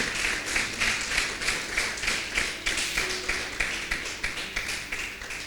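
A church congregation claps together in a steady, even rhythm, a dense patter of many hands repeating about twice per second throughout, with no voices clearly rising above it.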